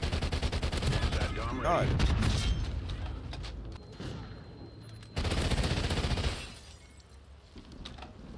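Rapid SMG gunfire in Call of Duty Ghosts, dense fast bursts that come in two loud stretches with a quieter gap between, plus a brief spoken exclamation.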